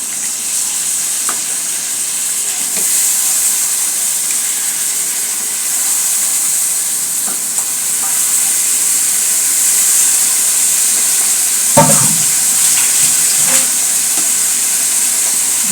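Chopped chicken pieces fry in a pan with a loud, steady hissing sizzle, close up and continuous, broken by a few faint clinks and scrapes of stirring.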